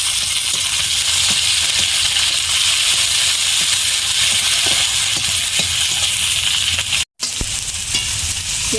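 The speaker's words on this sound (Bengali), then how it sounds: "পেঁয়াজটা ভাজা ভাজা হয়ে গেছে" Chopped onion and tomato frying in a pan for a potato and pointed gourd curry with fish roe, a steady loud sizzle with faint stirring scrapes and one brief dropout near the end.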